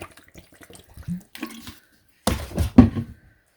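Citric acid water splashes and pours into a dye bath in a couple of short bursts at close range, with quieter clinks and handling noises before them; no voices.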